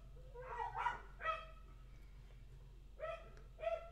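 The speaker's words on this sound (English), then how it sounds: "a neighborhood that doesn't have dogs barking every 5 seconds" Dogs in a residential neighborhood bark in short bursts, a pair of yips and barks followed by a pause and another pair, sounding moderately distant over a low steady hum.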